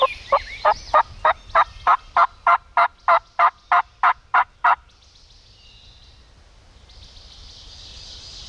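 A wild turkey gobbles in a rapid run of about fifteen evenly spaced, loud pulses, then falls quiet, leaving faint outdoor ambience.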